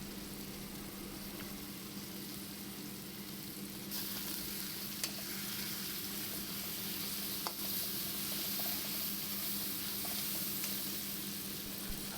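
Chopped tomatoes hit spiced oil in a pan, a steady close sizzle that grows louder once they land, with a few spoon scrapes as they are stirred.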